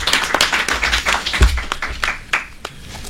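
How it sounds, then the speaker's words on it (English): A small audience claps for a group of panellists, scattered hand claps that start fairly busy and thin out toward the end, with one louder thump partway through. "if you could just join me in a round of applause for our panellists"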